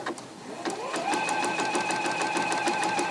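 A Juki DX-2000 QVP sewing machine runs a zigzag stitch at a steady rapid rhythm after a brief start, close and clear, with a faint voice underneath at the beginning.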